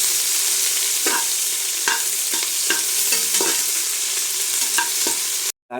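Onions and green chilies fry in a hot pan while a spoon scrapes and stirs them in regular strokes, a close, steady sizzle with sharp stirring clicks roughly every half second, cut off abruptly at the end.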